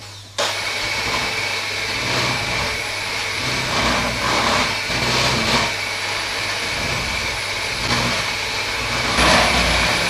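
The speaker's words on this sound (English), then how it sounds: "Now I'm going to take my electric whisk" An electric whisk starts abruptly and runs continuously, mixing chocolate cake batter with a steady close motor whine and slight rises in pitch and loudness as it works, no voices.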